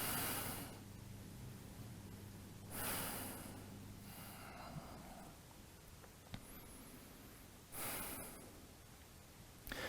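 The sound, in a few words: breathing while lying on back in yoga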